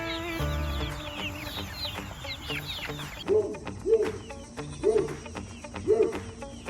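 Free-range chickens clucking nearby with repeated short calls, over a bed of insect chirping outdoors on a homestead.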